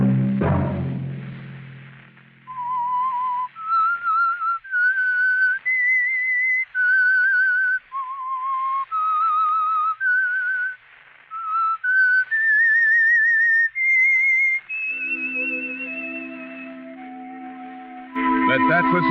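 The whistled theme tune of the radio mystery drama The Whistler, a lone clear whistled melody of stepped, slightly wavering notes carried steadily throughout, with orchestral music swelling in at the end.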